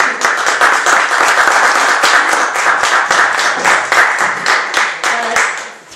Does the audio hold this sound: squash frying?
no